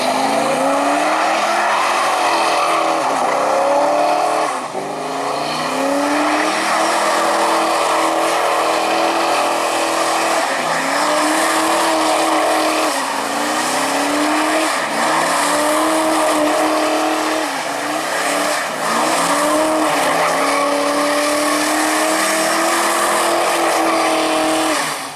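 A Ford Mustang does donuts, its engine revving hard in repeated cycles while the tires squeal continuously and loudly, the pitch rising and falling with each spin for over twenty seconds.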